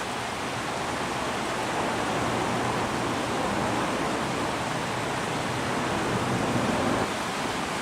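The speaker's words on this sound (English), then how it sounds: "Interesting here how Tiber Creek flows beneath the buildings on both sides." Tiber Creek rushing beneath buildings in Ellicott City, Maryland: a steady, dense roar of flowing water fills the whole stretch without a break, loud and unbroken.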